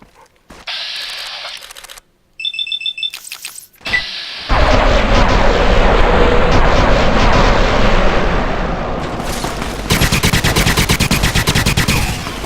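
A Fallout New Vegas firefight with companions joining in: loud, dense gunfire that starts in short separated bursts, then turns into a sustained, heavy barrage of shots and blasts.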